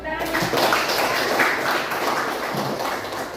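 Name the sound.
classroom clapping hands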